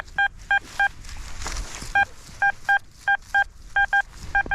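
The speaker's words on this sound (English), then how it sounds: "Sounds a little forced on the Deus 2." XP Deus 2 metal detector signal tones, a string of short, clean electronic beeps in irregular pairs and groups over faint outdoor background noise, heard alone and close.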